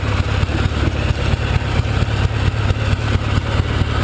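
A Gilson riding mower engine with a worn carburetor and an overheating coil runs loudly while driving, its close, steady drone pulsing in a rapid, even beat throughout.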